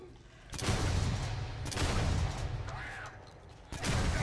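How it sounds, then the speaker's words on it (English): Shotgun blasts in the zombie game Dead Island 2, several loud broadband bursts spaced a second or so apart over a steady din of game noise. "Let's start with our shotgun for these guys."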